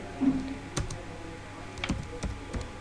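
Keys clatter on a computer keyboard in a short burst of uneven typing, a handful of crisp close taps spread over a few seconds with no talk.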